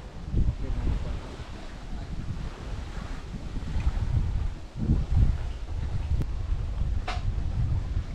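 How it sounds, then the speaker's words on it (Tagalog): Strong wind on a small island buffets the microphone in gusty rumbling bursts, with a faint wash of water and a couple of brief clicks. "Ngami mahangin, no?"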